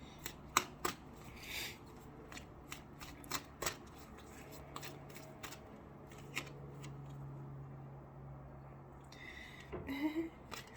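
Soul's Journeys oracle cards are shuffled by hand in short, crisp riffling bursts with quiet pauses between them, close and soft in a calm room.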